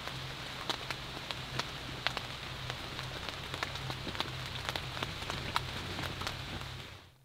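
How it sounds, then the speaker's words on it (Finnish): Rain falling on a tent in Päijänne National Park, Finland, a steady patter with distinct louder drops striking the fabric at irregular intervals over a constant low hiss, close and alone. "Sieltä tulee saderintama päälle."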